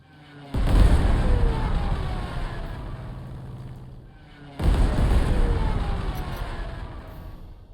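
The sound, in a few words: Stuka attack on artillery in video game Panzer Corps 2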